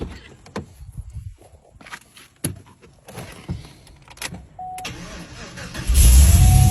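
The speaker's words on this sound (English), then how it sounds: "And the car runs." A car engine cranks and catches, then runs with a steady rising roar, preceded by scattered clicks, thumps and footstep-like movement; the engine grows loud and close toward the end.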